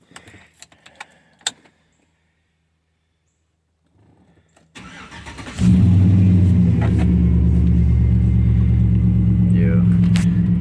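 Chevrolet Silverado truck with over 300,000 miles: faint clicks and key jingles first, then a short quiet gap, a cranking starter, and the engine catching into a loud, steady, low rumbling idle.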